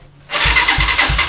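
A motorcycle being started before an oil change catches abruptly after a quiet moment, then runs loud and close with a rough rhythmic pulsing as the engine settles, choke partly closed.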